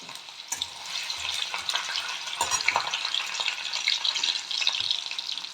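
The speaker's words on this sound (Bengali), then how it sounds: "একটু জিরে দিয়ে দিলাম, আদাগুলো ভেজে নেব" Cumin seeds and ginger frying in hot oil in a kadai, a steady bright sizzle with occasional spatula scrapes and soft clicks, close by and continuous without any talking.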